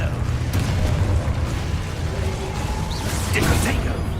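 Confringo, an explosive spell in Hogwarts Legacy, lands as a dense rumbling blast over a steady din of game effects, with a voice calling out nearby.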